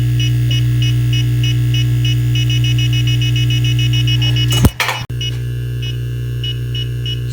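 EMF meter beeping near Tesla cars, a steady repeating electronic pulse pattern over a loud constant electrical hum, briefly interrupted by a sharp handling clatter partway through.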